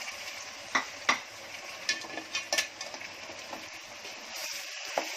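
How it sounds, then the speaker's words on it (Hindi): Chillies and tomatoes fry in a pan for a prawn pulao, a soft continuous sizzle punctuated by sharp scraping clicks of a spoon stirring against the pan, close and without talk. "अब इसमें डाल दी मिर्ची और टमाटर"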